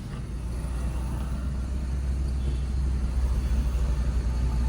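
A car engine picks up speed during a driving lesson, a steady low rumble that swells gradually louder as the car accelerates, with no voices over it.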